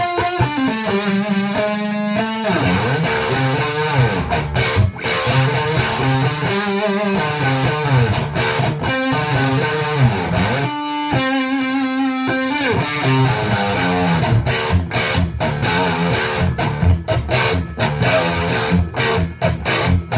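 Distorted electric guitar on the neck pickup of a Reverend Double Agent OG, played alone with a warm, rounded tone, strummed chords and riffs ringing out with brief pauses between phrases.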